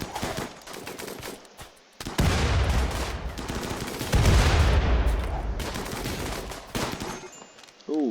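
Gunfire in the RimWorld video game rattles in dense rapid bursts, loud overlapping volleys of shots that pause briefly and then resume, continuing almost the whole time with no talking.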